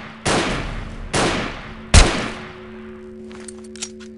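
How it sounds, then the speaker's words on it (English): In the video game Dead Epidemic, an enemy sniper fires three loud, sharp shots about a second apart, each with a ringing tail, followed by quieter distant pops. "He's shooting me in the arm."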